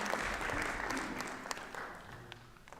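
Audience applause at a business conference session, a full burst of clapping that gradually fades over a few seconds, with a few sharper individual claps near the end.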